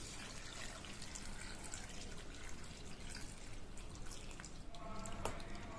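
Water added to a bowl of cut bitter gourd with turmeric and rock salt, a faint trickle and dripping from a tap, steady and quiet, with no talking.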